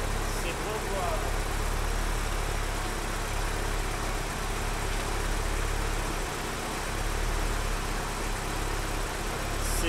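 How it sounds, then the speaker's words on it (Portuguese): A car's radiator cooling fan runs steadily with the engine hot and idling, a constant whooshing whir over a low engine hum lasting the whole time, with a voice speaking faintly at points. "aqui com o motor quente, a ventoinha disparou"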